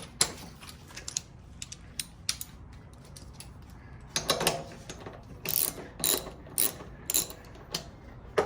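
A hand ratchet works a single 12 mm bolt loose from the gas tank of a 1982 Honda FT500 Ascot motorcycle. It gives sparse clicks at first, then faster bursts of close, crisp ratcheting strokes in a quiet space.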